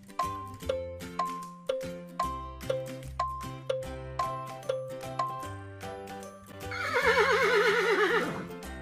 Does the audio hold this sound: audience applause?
no